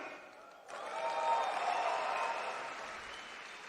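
Crowd applause at the Ola electric bike launch event, a broad wash of clapping that swells suddenly and holds steady, moderately distant, with no speech over it.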